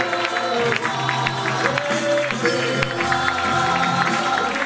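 A church congregation acclaims in worship, a dense crowd of voices and cheering with scattered applause, loud and continuous throughout, with singing or music tones threaded beneath.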